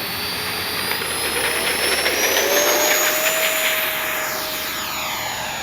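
A heavily modified Arrows F-86 radio-controlled jet with a 64mm ducted fan takes off, a loud, steady high-pitched whine with a rising tone that swells and then recedes slightly, with no talk.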